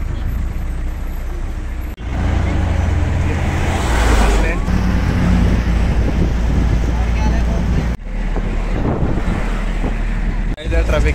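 Loud, continuous road rumble and wind roar from inside a moving vehicle in traffic on the way to Udhampur, with brief dips near two and eight seconds and voices talking over it.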